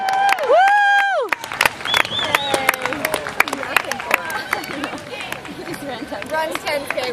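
Spectators cheer, whoop and clap at a kayak race at a canoe club, loud and close, with whistles and shouted voices in a busy burst that thins out over several seconds.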